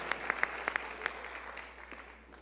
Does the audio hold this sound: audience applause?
yes